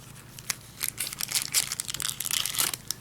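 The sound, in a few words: crinkling cellophane wrapping of a Pelikan M1000 pen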